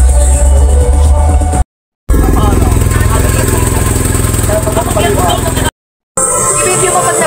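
A big bike motorcycle engine rumbles nearby at a steady, loud idle, cut by two short silent gaps, while people talk over it.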